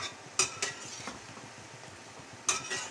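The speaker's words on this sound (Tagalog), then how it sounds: "Kumulo na ang aking talong." Eggplant cooking in a pan for a stir-fry with minced pork, heard as a soft steady bubbling simmer broken by a few sharp utensil clinks and scrapes.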